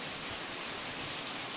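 Rain falls steadily as a soft, even hiss with no pauses, faint and continuous, with no voices present.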